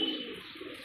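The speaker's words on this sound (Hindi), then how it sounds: "इसका बेटा है ये गुटर रहा है ये ऊपर" A desi high-flying pigeon coos softly in a low, steady murmur, a faint and continuous call close by with no talk over it.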